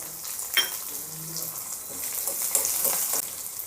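Chopped onion sautés with dried red chillies in a pan for peerkangai kadayal, producing a soft, steady sizzle with faint crackles and occasional stirring.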